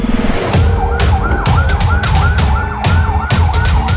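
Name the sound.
ambulance siren arriving at hospital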